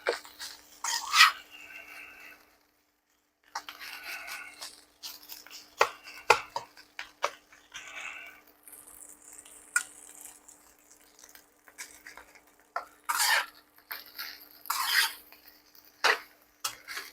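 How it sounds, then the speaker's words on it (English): Oily chicken fried rice is scraped and stirred in a hot pan as the clumps are broken up, giving a run of brief, close scratching and tapping strokes separated by short pauses. "you want to keep the rice in motion while you're heating it up, breaking up the clumps as you go"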